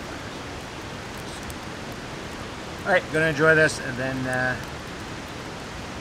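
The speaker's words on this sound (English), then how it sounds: "It seems to be starting to rain again" Rain falls steadily at a riverside campsite during a solo canoe trip, a soft broadband hiss running throughout, with someone briefly speaking midway over it.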